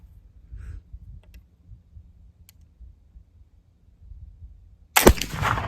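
Black powder rifle shot with wet-milled Osage orange powder: quiet faint clicks and handling noises, then one sudden loud nearby blast whose boom rings out to the end.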